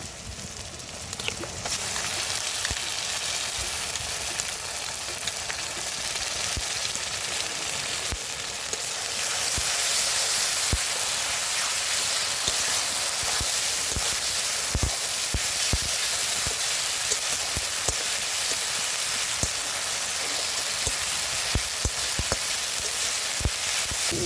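Ginger-garlic paste frying in a pan for a village-style mutton curry, a steady close sizzle that grows louder partway through, with occasional stirring clicks and scrapes.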